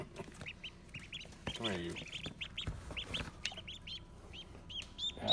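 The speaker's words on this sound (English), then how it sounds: "And there's my new baby ducky doos." Baby ducklings peep in a series of short, high chirps, with a person talking softly over them close by.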